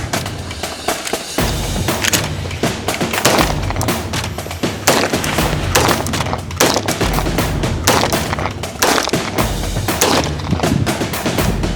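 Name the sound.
M9A4 pistol gunshots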